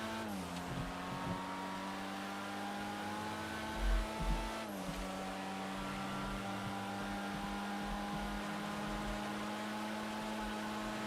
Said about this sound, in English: open the hood and, you know, so you can get a nice sound from the engine